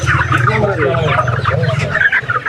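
Sonali chickens cluck and squawk continuously at a market, loud and close, with a steady low hum of background noise and occasional voices nearby.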